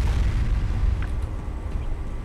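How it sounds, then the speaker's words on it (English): Continuous explosion-like rumbles and booms from a grenade-heavy refinery combat level in a video game, dense low-end blasts rolling one into the next at steady loudness, with no talking. "Why is there nothing but explosions?"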